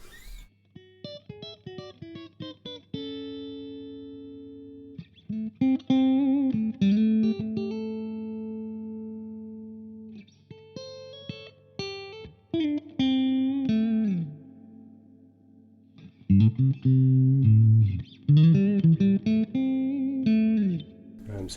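Electric guitar through a Victory V140 Super Duchess amp plays clean chords and single notes in separate phrases, starting dry, while the reverb mix is gradually raised so the ringing tail grows longer and fuller.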